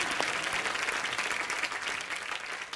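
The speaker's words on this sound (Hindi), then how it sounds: "मोमो के धागे की स्टार कास्ट के लिए तालियां" A studio audience at a Hindi comedy talk show breaks into loud, continuous applause, dense clapping from many hands that holds strong and then tapers slightly toward the end.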